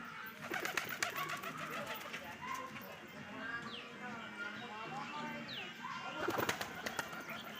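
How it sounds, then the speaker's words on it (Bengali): Pigeons coo in a low, steady murmur with bursts of wing flapping near the start and end, over outdoor background noise. "দেখো তো বন্ধুরা ভয়েতে উড়ে গিয়েছে পায়রাগুলো"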